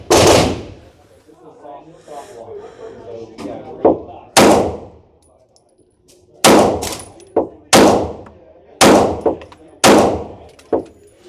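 Loud, close gunshots from a Sarsilmaz firearm at an outdoor shooting range, a slow series of sharp single reports with ringing echoes, and a voice talking between the first shots.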